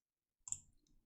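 A single quiet computer mouse click on an installer's Next button, close and brief, set against near silence.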